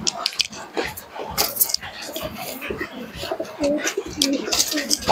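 Deshi giribaz pigeons coo repeatedly in short, close, soft bursts, with someone talking over and between the calls.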